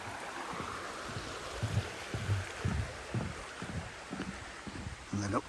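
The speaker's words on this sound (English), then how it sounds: "And then we go across the brook." Grindsbrook, a brook in Edale in the Peak District, flows with a steady broadband rush of water throughout, with low speech-like sounds underneath.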